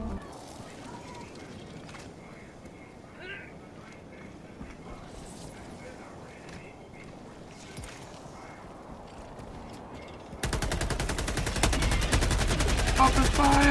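In the video game Helldivers 2, rapid automatic gunfire erupts suddenly and loudly after a stretch of quieter ambient game sound and footsteps, a fast, sustained burst of shots continuing to the end, with players talking over it.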